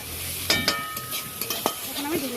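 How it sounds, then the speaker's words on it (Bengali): Home-grown leafy greens fry in a pan, crackling and sizzling close by while a spatula scrapes and knocks against the pan a few times. "পাতা ভাজা হয়ে গেছে"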